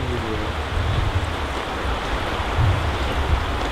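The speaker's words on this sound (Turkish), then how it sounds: "Yok işte rüzgar işte o." Strong wind roars steadily around an abandoned house with low rumbling gusts, broadband and continuous, rising in bursts near the end; no talking.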